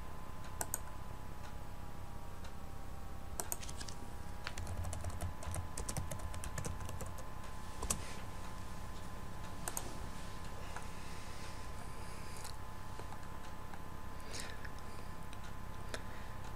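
An email address is typed on a computer keyboard: soft, quick key clicks in irregular bursts with short pauses, close by and fairly quiet, over a faint background hum.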